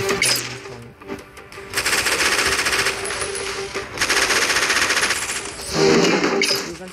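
A minigun in the video game Warfriends fires in several long, rapid bursts, a dense rattling roar that keeps starting and stopping with short gaps between them.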